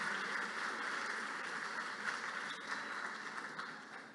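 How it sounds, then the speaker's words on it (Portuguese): An audience at an anti-corruption event applauds for a man being honored, a continuous moderate wash of many hands clapping in a hall, fairly distant and even throughout. "Peço palmas para o Fábio, que ele abraçou o projeto."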